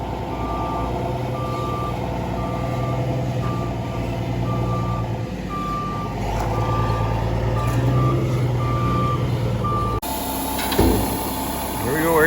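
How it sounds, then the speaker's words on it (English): A dump truck backs up with a steady run of loud, evenly spaced reversing beeps over its rumbling engine, close by, then an abrupt shift near the end as it begins unloading gravel. "Here comes a dump truck."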